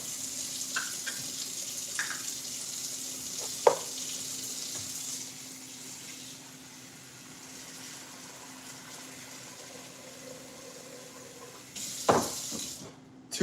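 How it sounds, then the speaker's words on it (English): Water runs steadily into an Instant Pot pressure cooker in a kitchen, a soft continuous trickle with a few brief clinks and knocks, and no one speaking. "Two cups of water into the Instant Pot"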